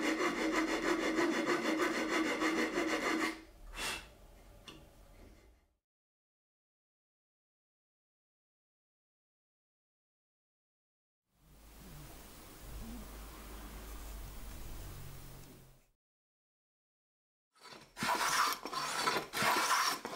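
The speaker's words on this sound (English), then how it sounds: "So here comes more sanding." Rough, rasping strokes of hand sanding on a wooden guitar part come in three bursts separated by stretches of silence, close and fairly loud.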